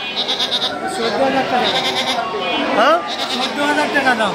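Several goats bleat repeatedly at the Jhikargachha goat market in Bangladesh, their wavering calls mixed with people talking nearby and the general bustle of the crowded market.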